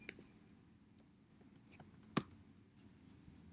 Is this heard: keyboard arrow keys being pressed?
yes